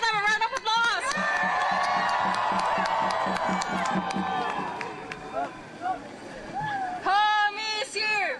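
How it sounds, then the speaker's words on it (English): A crowd at an immigrant youth rally for DACA cheers, whoops and claps in a dense, loud roar, with a voice shouting over it at the start and end. "let's give them a round of applause"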